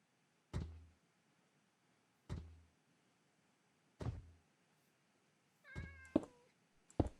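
A Minecraft cat gives short, separate meows spaced a second or two apart, clear and close against quiet, ending in a quicker cluster of calls.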